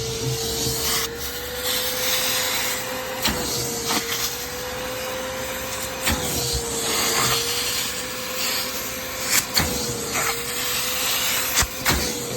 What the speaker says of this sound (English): I'll turn this on and we get the vacuum forever